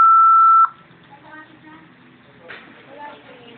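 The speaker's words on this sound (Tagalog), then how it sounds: "Please leave a message after the beep." A loud, steady electronic beep sounds for about half a second, then stops, followed by people talking faintly over a phone line.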